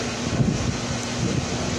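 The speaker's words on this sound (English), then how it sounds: "Hear that wind still?" Wind roars steadily into the microphone, a dense, rumbling gust that stays loud and unbroken throughout.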